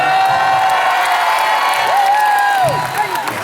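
An audience at a community inter-neighbourhood games results ceremony cheers and whoops loudly, crowd noise with whistles and shouts sustained throughout, near and dense.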